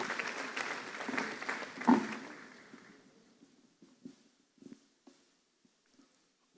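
A round of applause at a national dialogue on tax revenue leakages, welcoming a speaker; crowd clapping builds, peaks, then tapers off into a few scattered claps and quiet.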